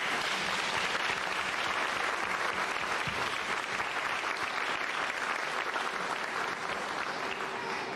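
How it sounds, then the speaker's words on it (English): Steady, sustained audience applause at a Safety Town 2016 event, dense even clapping from a crowd filling the whole stretch at a constant level without a break. "Please give them a round of applause."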